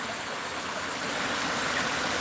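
Rising river water in Watermouth, Manchester, Jamaica, rushes in a steady, dense roar, close and constant, with no voices over it.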